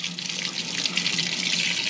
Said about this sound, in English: So that's the cold water.